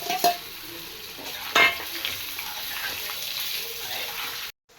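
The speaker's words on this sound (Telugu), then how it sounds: "బాగా వేగిన తర్వాత బంగాళదుంప ముక్కలు వేసుకోవాలి" Potato pieces frying with onion and curry leaves in a pan, giving a steady close sizzle with a couple of sharper stirring scrapes, before cutting off abruptly at the end.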